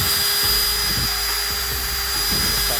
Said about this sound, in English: a piece that's already on my power drill, which is the wire cup